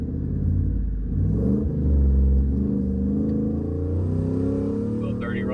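A Ford F-150 pickup with a single-turbo setup pulls hard in first gear, its engine rumbling low and loud from inside the cab as the pitch climbs steadily, with a faint whistle rising near the end.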